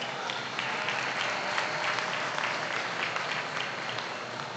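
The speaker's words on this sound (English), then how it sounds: "let's give all these exhibitors a big round of applause." Steady round of applause from the crowd at an open jackpot ewe show at the Ohio State Fair, honoring the livestock exhibitors; dense, continuous clapping of many hands, moderately distant and even throughout.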